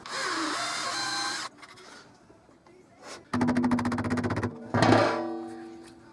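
A drill bores out a hole to match the shaft of old salvaged wheels, in short loud bursts of rattling, chattering whir separated by pauses, close by in a workshop.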